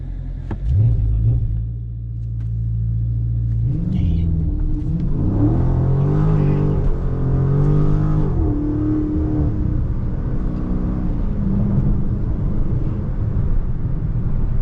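A Dodge Charger Scat Pack launches off the line using launch control, its engine holding a loud deep rumble at steady revs before surging into a hard rising acceleration that roars on and gradually settles.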